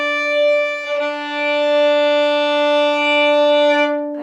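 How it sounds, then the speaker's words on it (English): A bowed violin sounds a D in octaves, two notes together an octave apart, one steady sustained tone held close and clear for a few seconds. "So this is a D played in octaves."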